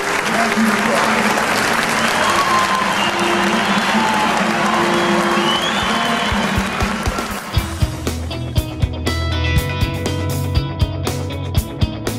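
An audience applauds family members and educators, with sustained loud applause from a crowd that thins out toward the end into scattered individual claps.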